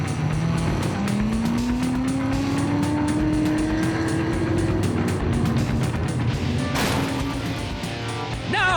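A life-size remote control car races around a track, its engine whining and rising in pitch as it accelerates, with tires squealing through the corners and a sharp burst of noise near the end.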